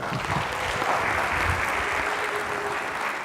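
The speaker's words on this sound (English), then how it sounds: "Let's give yourselves a round of applause." An indoor crowd at a student research poster session applauds steadily, a dense, continuous clapping that stays loud from start to finish.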